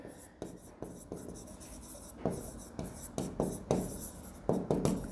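A pen writes by hand on paper while working an accounting exercise, giving rhythmic close scratching strokes in short bursts, with soft speech in the background.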